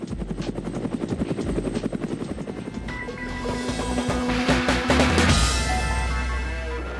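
A police helicopter flying overhead, its rotor chopping in a loud rhythmic beat that builds into a dense roar as it passes close.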